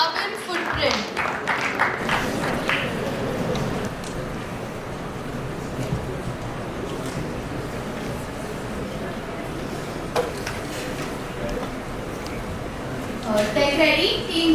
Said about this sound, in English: Can we welcome them with a huge round of applause?